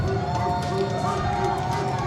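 Crowd at a Momocon 2025 Street Fighter 6 tournament cheering for King Raichu, a dense, sustained roar of shouts and whoops that stays loud for the whole stretch.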